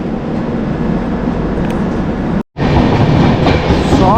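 The 12704 Falaknuma Superfast Express rumbles along with a loud, steady roar from inside a coach, briefly cut by a moment of silence before the running noise resumes.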